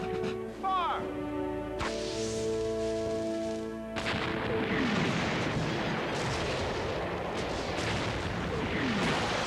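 Artillery bombards a city, heavy booming bursts rumbling in a dense, continuous roar through the second half, preceded by quieter tones and whistling sounds.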